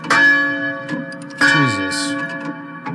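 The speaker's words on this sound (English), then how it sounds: "The bells! The cussed bells!" Loud bell strikes with long ringing overtones, two main strikes about 1.4 seconds apart plus lighter chimes, and a voice talking briefly partway through.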